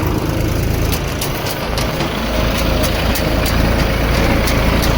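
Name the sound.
tractor engine running in a field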